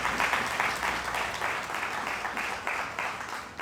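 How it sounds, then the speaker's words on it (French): A church congregation at a French-language Sunday service applauds in steady, rhythmic waves of clapping that fill the room at an even volume throughout. "Acclamez encore le Seigneur."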